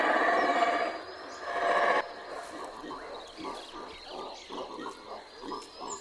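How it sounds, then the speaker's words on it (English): Howler monkeys in the Guatemalan forest give a deep, rasping roar that fades into a series of guttural grunting calls, moderately distant against the ambient jungle background. "One of the younger monkeys was stressed out by that intense howling session."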